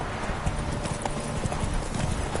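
Hooves of Roach, Geralt's horse in The Witcher 3, beat in a steady galloping clip-clop over a constant roar of wind and movement. The sound is loud and continuous and carries no speech.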